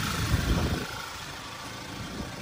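A 2011 Volkswagen Tiguan engine idles just after starting, a loud, close, steady rumble with a rougher burst at first that then settles into an even drone.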